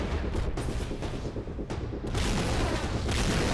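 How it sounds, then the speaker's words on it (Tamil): Explosions in the video game GTA 5: dense, loud, continuous crackling blasts and booms with rolling debris, sustained throughout. "வெடிச்சு செதறுது."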